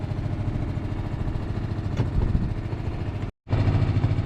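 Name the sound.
boat motor running while leaving anchorage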